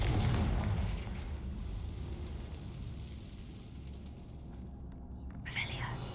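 Confringo spell explosion in Hogwarts Legacy, a deep rumbling blast up front that settles into a sustained low roar, then a sharper pop toward the end.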